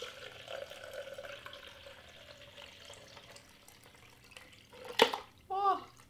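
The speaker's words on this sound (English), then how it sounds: "I'm going to start pouring it in." Liquid poured into a color-changing vinyl snack cup, a faint watery trickle under quiet talk, ending in a couple of sharper splashes as some spills.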